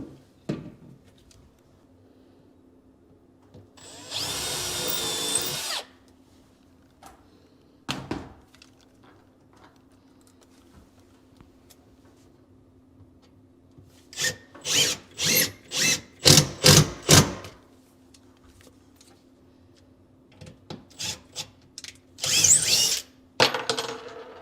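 A power drill drives screws into wooden kitchen cabinets in a house being renovated, with one sustained whirring run, then a quick series of short bursts and a few final pulses, separated by quiet pauses and light knocks.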